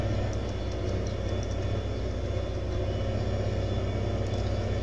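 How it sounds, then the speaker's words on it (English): A truck's engine drones steadily while it drives in Farming Simulator 2015, a loud, constant low rumble with no breaks and no talk. "I love this truck. It's not the best looking, but man, it's great. I love the sound, it drives great"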